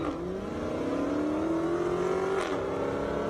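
A Ferrari 360 Spider and a Dodge Challenger race down an airstrip, one engine climbing steadily in pitch through a long acceleration, then a sharp gear change near the end, loud and continuous.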